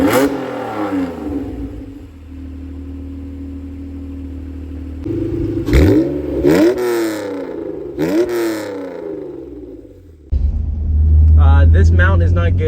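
An Acura NSX fitted with a test pipe exhaust revs while driving. Loud engine drone rises and falls through several sharp rev sweeps, then a heavier roar comes in near the end, with speech over parts of it.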